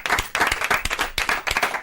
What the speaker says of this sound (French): Et pour ça, on t'applaudit encore.